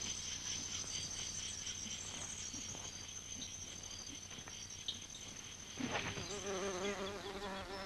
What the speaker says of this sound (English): Buzz pollination, the release of pollen by ultrasonic vibrations.